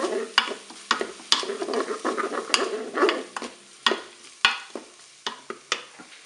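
Shrimp dusted with curry being stirred inside a Cookeo multicooker, a quiet sizzle under repeated sharp scrapes and taps of a utensil on the pot, close up with uneven pauses and no voices.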